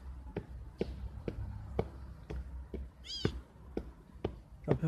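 A cat meows repeatedly in short, evenly spaced calls, close by, with one longer, wavering meow partway through.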